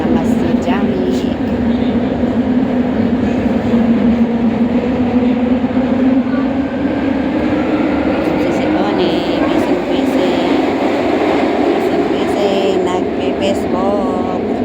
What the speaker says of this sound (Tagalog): Underground na tayo ng train.